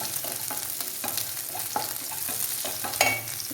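Chili frying in a pan makes a close sizzle broken by quick, repeated stirring scrapes and taps, with one sharper clatter near the end. No one speaks.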